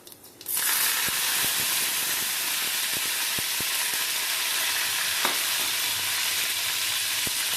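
Fennel seeds and curry leaves hit hot oil and burst into a loud, sudden hiss, followed by steady sizzling spluttering with scattered sharp pops and crackles throughout.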